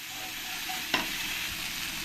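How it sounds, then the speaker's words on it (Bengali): Chopped tomato is stirred into frying masala in a pan, producing a close, continuous sizzle with one sharp scrape of the spoon partway through. "এই টমেটোটা দিয়ে দেবো দিয়ে ভালো করে এর সঙ্গে নাড়িয়ে আর একবার কষিয়ে নেবো"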